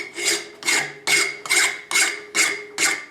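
A hand file rasps rhythmically across a forged penannular brooch pin to clean off burrs, giving seven even, close strokes about half a second apart, each a bright scraping swell with no talking.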